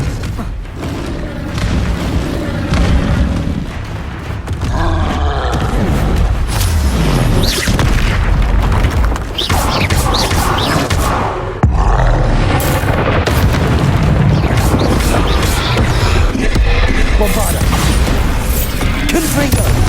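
Confringo blasting spells in the Hogwarts Legacy video game set off repeated booming explosions, loud bursts and crashes layered densely through a frantic battle with overlapping hits.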